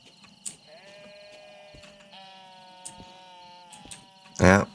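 Sheep bleating in the Derail Valley train game, one loud close bleat near the end over steady harmonic engine drone and low talk.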